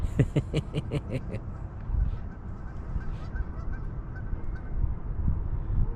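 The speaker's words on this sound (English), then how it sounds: "Some geese in the next pond." A burst of loud, rapid goose honks from geese on a nearby pond in Calgary at the start, then scattered fainter honking further off over low outdoor rumble.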